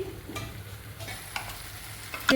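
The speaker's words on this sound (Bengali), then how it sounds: "মিডিয়াম টু লো হিটে আমি এটা কষাচ্ছি" Kofta curry masala sautés over medium-low heat, a soft continuous sizzle with a few scraping stirs and a sharper clink at the end, no talking.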